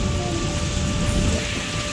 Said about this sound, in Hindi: बड़ी तेज बारिश लगी है